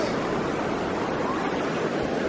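Steady broadband rush of the Virgin River flowing through the Narrows in Zion, a continuous even wash of moving water with no breaks, moderately loud and close.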